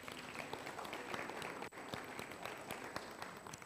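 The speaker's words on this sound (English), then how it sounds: "Let's give them a round of applause." An audience at a Safaricom business talk hosted by CIO Africa gives a round of applause, a continuous wash of many hands clapping at moderate distance, fairly even throughout with no talk over it.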